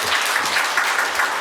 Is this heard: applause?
yes